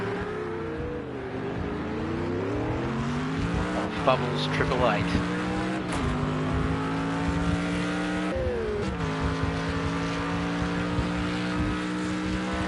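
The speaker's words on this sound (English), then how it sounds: "We are riding on board with the Mercedes AMG car right now." Mercedes AMG GT3 race car engine heard onboard in Project Cars 2 at Long Beach, revving high and dropping through repeated gear shifts, loud and steady throughout while a commentator talks over it.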